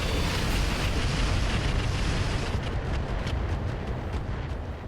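Mech weapons fire in the video game RogueTech, a loud, continuous rumbling blast of explosions that fills the scene before easing off slightly near the end.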